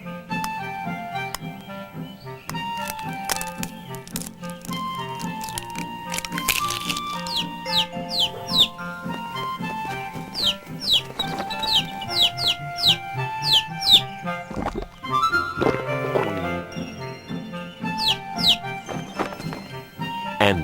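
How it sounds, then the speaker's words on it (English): Animated cartoon birds cluck and squawk over a busy musical score, with quick rising chirps scattered through the passage and a fairly loud, continuous backdrop of music. "and more birds,"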